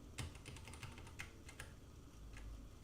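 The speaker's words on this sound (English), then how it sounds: "if we type things into that keyboard again, the keyboard control" Keys clack on a computer keyboard in a steady run of close, quiet taps at an irregular pace, with no voices.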